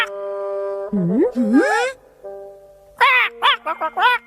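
A newly hatched cartoon duckling quacks in a series of high, wavering squawks: two bursts, a pause, then several quicker ones that sound close and loud.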